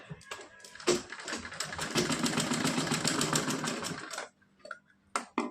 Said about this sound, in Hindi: इधर साइड में भी मोड़कर सिलाई लगाएंगे।